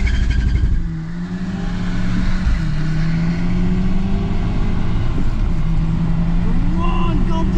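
2006 VW Golf GTI with about 200 bhp launching hard from a standstill, its loud engine droning and rising steadily in pitch as it pulls, close and continuous, with someone shouting excitedly over it.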